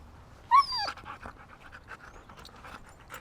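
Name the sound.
Siberian husky panting on a walk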